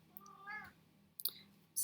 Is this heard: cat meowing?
yes